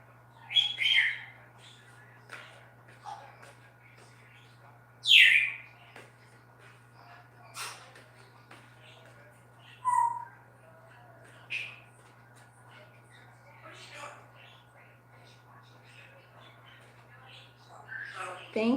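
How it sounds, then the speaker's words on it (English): A pet bird chirps and tweets in scattered bursts indoors, sharp calls rising every few seconds over a steady low electrical hum. "You guys don't mind my bird."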